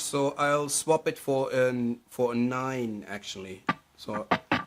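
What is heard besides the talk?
No everyday noise stands out behind the speech.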